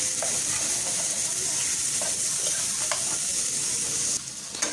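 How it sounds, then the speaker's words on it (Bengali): Close, continuous sizzling of a whole fish frying in hot oil, bright and hissy, with a few small pops before it suddenly quiets near the end. "এখন তাড়াতাড়ি মাছটা ভাজা হয়ে যাবে।"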